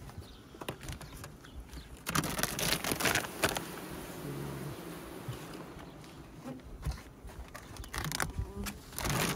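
Honeybees buzz around beehives in a steady, close drone, with louder swells as individual bees pass near and soft clicks and knocks from handling the hives.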